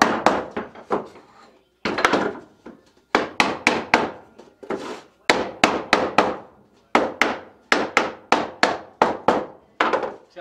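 A wooden piece is tapped into the routed half-inch groove of a screened bottom board for a five-frame nuc, heard as loud, close, sharp knocks in quick bursts of three to five separated by short gaps.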